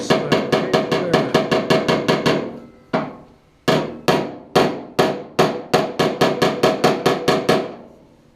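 Hammer tapping out a dent in the steel door of a 1966 Ford Galaxie 500 convertible: sharp metallic blows landing in quick, steady runs of about eight, broken by a couple of short pauses, close and loud with no talk.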